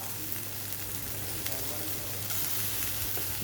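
Onion fries for a chicken spring roll filling in a soft, steady sizzle, close but fairly quiet, with an even crackle and a low background hum throughout.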